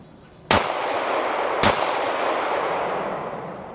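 Two sharp, loud reports from a Buffalo Cartridge BRG9 pistol about a second apart, each a sudden broadband crack fading into a long ringing, echoing tail, with no talk.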